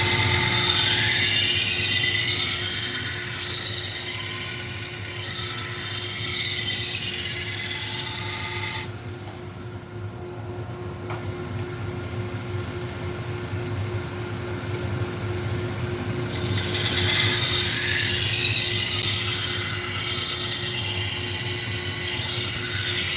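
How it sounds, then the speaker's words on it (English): A knife blade is being ground on a 120 grit belt sander, a steady broadband abrasive hiss that drops away for several seconds mid-pass and then resumes at full loudness; no one talks. "We're using a 120 grit to start, and I don't want to heat this blade up."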